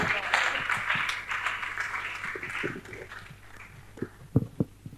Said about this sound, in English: So let's welcome Raf Anefi with a round of applause.